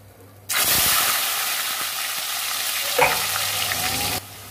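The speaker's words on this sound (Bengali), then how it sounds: "উচ্ছেটা ভেজে নেব।" Bitter gourd frying in hot mustard oil: a loud, dense sizzle bursts in suddenly and holds steady for about four seconds, with a brief stirring scrape partway through before it cuts off.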